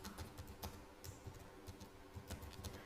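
Soft, rapid keystrokes on a computer keyboard while a marketing agency name is typed, faint and close, with a light steady clatter over low background noise.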